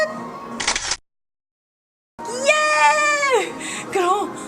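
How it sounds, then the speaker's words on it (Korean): A camera shutter clicks as a photo is taken at the Lotte World Undersea Kingdom indoor playground: a short bright snap, then a pause of silence before a high, cartoonish voice rises and falls. "그럼 친구들 같이 카운트다운 하고 사진 찍어주세요. 하나 둘 셋. 찰칵."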